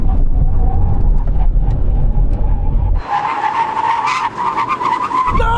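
An Aston Martin brakes hard on a road, low engine and tire rumble giving way to a loud, sustained tire squeal as the wheels skid, heard up close without voices.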